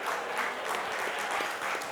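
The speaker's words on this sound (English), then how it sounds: "Give Eddie Money a round of applause" A conference crowd at Pitch Madness 2019 in Orlando gives a round of applause for the coin-flipper, Eddie Money; brief, even clapping from many hands, moderately loud throughout.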